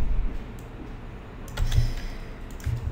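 Soft, quick keystrokes on a computer keyboard, a few scattered clicks followed by short bursts of typing, faint and close.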